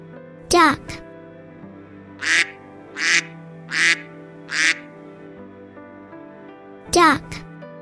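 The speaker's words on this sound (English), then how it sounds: "Duck." A duck quacks several times in a rhythmic series of loud, close, nasal calls over a steady background of music.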